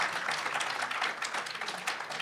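An audience at a science summer institute's final presentations gives a steady round of applause for a team coming up, a dense, even wash of many hands clapping throughout.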